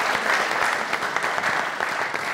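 A studio audience at a Pakistani comedy talk show claps in a dense, steady burst of applause, close and loud throughout, with no speech over it.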